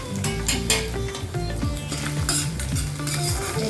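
Roasted dal and peanuts are stirred in a pan, scraping and soft sizzling with repeated spoon strokes against the metal, close and without talk, while a faint tonal background hums beneath.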